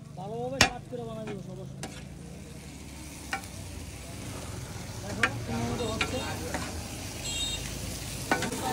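Chicken chap masala fries and gets stirred in a pan at a street food stall in Daudkandi bazaar, a steady sizzle broken by several sharp metallic clinks and scrapes of the utensil at irregular intervals.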